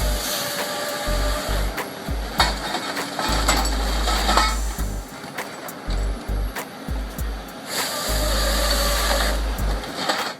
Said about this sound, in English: Equipped with a giant chainsaw and powerful hydraulic arm, the Cat 568FM is specifically engineered for intensive forestry operations.